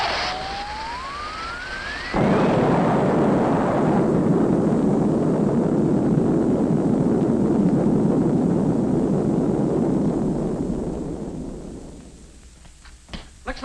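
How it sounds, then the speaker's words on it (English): Explosion effect in the 1957 sci-fi film Invasion of the Saucer Men, a rising whistle cut by a sudden loud blast that roars on for several seconds before fading, then a few faint knocks. "like there's been some kind of an explosion over in Pelham Woods."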